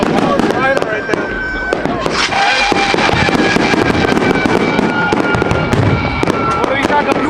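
Fireworks burst in a loud, dense barrage at a $10,000 Fourth of July show, with sharp crackles and booms layered over constant background noise and people talking nearby.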